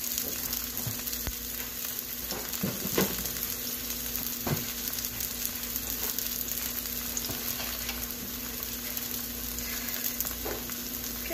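Garlic fries in a skillet with a constant, even sizzle, broken now and then by faint scrapes of stirring, all at a low, close level.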